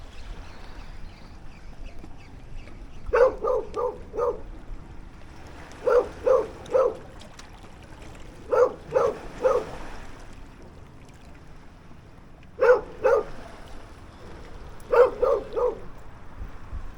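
Dogs barking in repeated bursts of three or four quick woofs outdoors near water, set apart by short pauses over a steady bed of wind noise.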